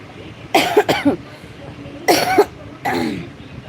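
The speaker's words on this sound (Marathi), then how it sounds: "खोकला झालेला आहे" Three separate bursts of coughing, each a short cluster of rough, loud coughs with quiet pauses in between, close to the listener.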